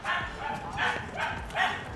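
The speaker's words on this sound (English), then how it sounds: "We're going to get a little bit closer now to the other dogs." Several dogs barking and yipping at a reactive-dog training session, four fairly close, excited barks spaced evenly apart, with faint sounds of a person in the background.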